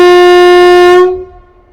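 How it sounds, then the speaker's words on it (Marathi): A single long, loud, steady whistle blast from the Koyna Express departing Vishrambag railway station, holding evenly for about a second before cutting off and fading into quiet platform ambience. "कोयना एक्सप्रेसचं डिपार्चर विसल झालेलं आहे"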